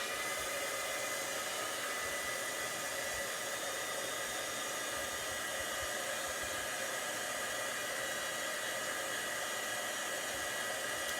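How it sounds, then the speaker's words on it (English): Heat tool blowing hot air to melt embossing powder on a card, a loud, steady hissing whoosh like a hair dryer that runs unbroken from start to finish. "I'm going to go ahead and emboss this with my heat tool."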